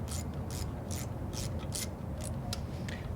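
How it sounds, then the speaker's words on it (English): Small metal spring being pried off a diesel injection pump bracket, a run of rhythmic clicky ratcheting scrapes, close and steady over a constant low mechanical hum. "Well, first we'll take this little spring off."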